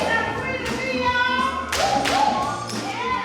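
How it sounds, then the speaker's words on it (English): Women at a Nashville 40+ double dutch meetup clap hands in a circle, sharp irregular claps mixed with a sung or chanted voice and background chatter. "Once the hand clapping starts, with everyone in a circle together"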